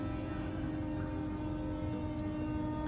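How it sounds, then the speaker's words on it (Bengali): A passing intercity express train rumbles steadily nearby in the Bankura region, a deep continuous roar of wheels on track with a sustained mechanical hum and no breaks throughout. "এই যে ট্রেন আসছে"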